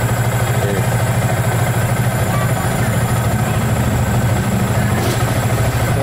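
Yamaha Vixion motorcycle engine idling unsteadily, a loud, close, continuous mechanical thrum with a rapid pulsing beat and light clatter, its idle rising and falling.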